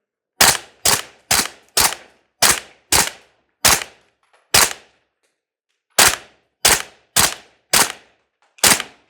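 Suppressed Steyr AUG 9mm carbine firing a 25-round magazine, sharp muffled shots in quick irregular bursts of about fourteen reports with a brief pause midway, loud and close.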